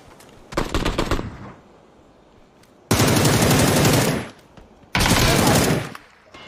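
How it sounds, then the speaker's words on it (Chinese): Gunfire in a shooter video game, with long-range sniper fire from a hillside: three loud, dense bursts of shots, the first about half a second, the later two over a second each, separated by quieter gaps. "远距离打的好像是，后面打的，一个狙击枪"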